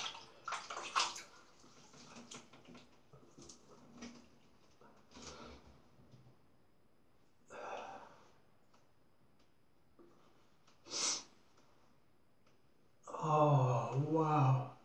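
A Gillette Executive Adjustable gold Fatboy razor is rinsed under running water, giving scattered short splashes and trickles, with a louder closing burst of rushing water near the end and faint voice sounds in between.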